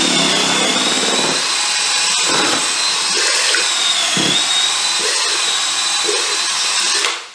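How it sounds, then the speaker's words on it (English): A loud power drill whirs steadily with a whisk churning through thick wet clay slurry, with brief sloshing bumps, running continuously before stopping abruptly. "you can mix it with a big drill with a whip on it"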